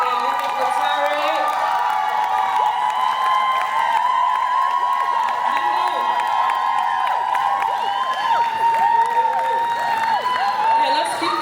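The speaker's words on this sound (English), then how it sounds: "Let's give a big round of applause to Nunu, aka Nunu the Creator, aka Linda, aka Linda Kotare" Large crowd cheering, whooping and clapping for a poet at a Kampala poetry performance event, a steady loud roar of voices and applause throughout with shouts rising over it.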